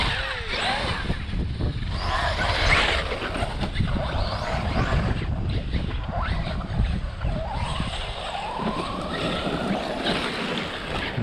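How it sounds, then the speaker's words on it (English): A Traxxas Slash RC car drives through thick terrain outdoors, its gears whining and wheels churning in a continuous rough rumble, steady wind noise underneath. "Traxxas slash getting through the thick stuff. Listen to the gears and the wheels."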